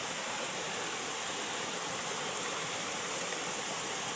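Water with live fish sloshed and poured into a container, a steady rushing splash that continues without break, close and fairly loud, no voices.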